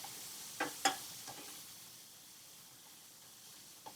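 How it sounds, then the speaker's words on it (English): A soft, steady sizzle of food sautéing in olive oil in a hot pan, quiet and continuous, with a couple of brief utensil clinks near the start. "Now, we're sauteing this."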